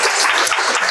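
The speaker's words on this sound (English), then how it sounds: "a round of applause for my panel" Audience applauding a panel at a media conference: a short burst of dense, loud, steady clapping from a crowd, with no voices over it.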